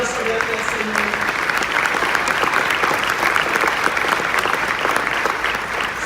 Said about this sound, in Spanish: Ese aplauso de Dios, Señor.